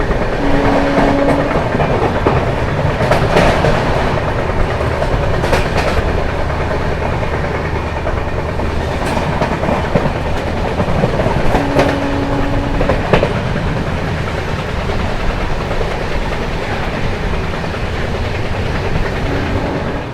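The 12329 West Bengal Sampark Kranti Express running at speed, a loud, steady rumble of wheels on rails with rhythmic clickety-clack and occasional brief tonal whines throughout.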